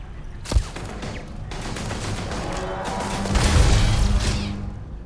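Gunfire from a gun in Starfield: one sharp close shot early on, then a heavier rumbling volley that swells and fades in the game's ambience.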